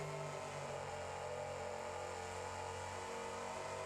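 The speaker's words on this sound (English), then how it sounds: "You can hear the engine being loaded up quite a bit all the time" A monster truck in BeamNG.drive with a fully locked drivetrain drones under heavy load, a steady sustained engine hum with constant low harmonics throughout, no voices.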